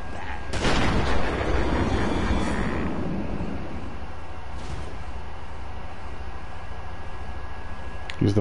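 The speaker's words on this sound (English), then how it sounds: "Use the middle stick to dodge Joker's gunfire" Heavy booming gunshots ring out in Batman: Arkham Asylum, Joker firing, a sharp blast up front followed by rumbling echoes and scattered fire over a steady background.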